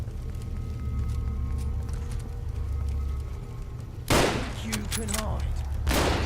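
Gunfire in the video game Fallout London, a sharp burst of shots cutting in near the end over a low droning background, with in-game voices talking around it.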